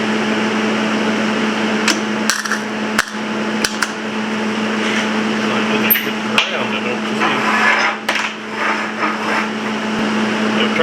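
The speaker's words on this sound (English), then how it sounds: "Let's see how it welds." A Millermatic 130XP 110-volt MIG welder welds with a steady crackling, buzzing hiss carrying a constant hum, broken by brief sharp pops and short interruptions, close and loud without talk.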